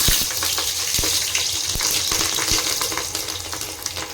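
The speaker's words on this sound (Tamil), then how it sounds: "பொரியட்டும் இதில் நம்ம கடுகு உளுந்து போட்டுக்கிறோம்" Close, steady sizzling of hot oil with scattered sharp pops and crackles as mustard seeds and urad dal lentils fry for tomato rice, with no voices.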